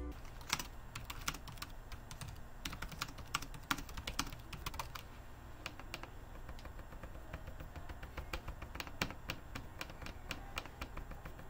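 Typing on the keyboard of an Asus TUF Dash F15 gaming laptop: a steady run of close, crisp key clicks and taps with a few louder keystrokes, and no talking.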